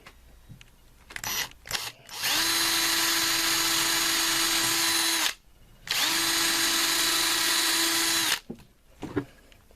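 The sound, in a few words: power drill drilling wood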